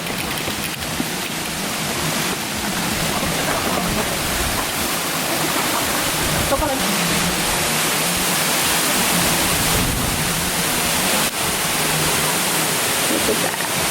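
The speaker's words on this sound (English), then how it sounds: "let us show you the secret waterfall" A secret waterfall reached on a hike in 116-degree heat, its steady broadband rush of falling water filling the whole scene at constant loudness, with faint voices now and then beneath the roar.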